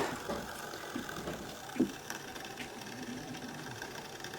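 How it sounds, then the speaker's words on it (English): A Brother ScanNCut cutting machine draws its blade through fabric on a cutting mat, a steady low mechanical whir and rasp with a brief sharper knock near the middle. "That blade going through the fabric? That's what you want to hear."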